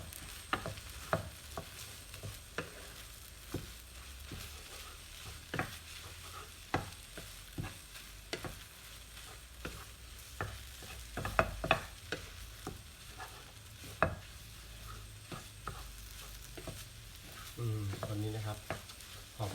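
Eggs stir-fry with butter, chili and garlic in a pan under a soft steady sizzle, punctuated by frequent sharp clacks and scrapes of a spatula striking the pan.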